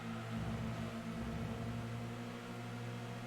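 Thin, buzzy engine whine from racing cars in Gran Turismo 2, resembling a broken computer CD drive, a continuous humming drone that stays level the whole way through without any voices.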